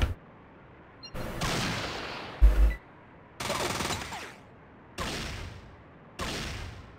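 Gunfire in Fallout, five or six loud bursts of automatic fire separated by short pauses, each burst with a harsh, crackling attack and a ringing tail, plus one heavy thump in the middle.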